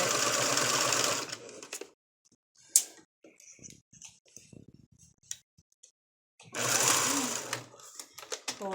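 A sewing machine stitches a lacy flower girl dress in two steady, loud, close runs of fast needle rattle, separated by a quieter stretch of handling clicks and light rustling.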